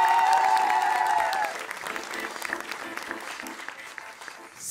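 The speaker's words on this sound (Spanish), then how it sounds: "El aplauso para Nesali." Studio audience at a televised singing contest claps loudly over a held musical note, then the applause thins and carries on more softly with scattered voices.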